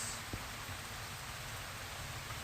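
Steady, even hiss of rain falling, constant throughout with no voices, a single faint tap near the start.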